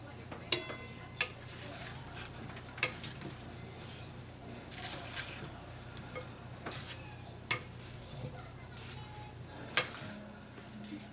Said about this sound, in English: So here we have our dressing, and then we mix it up.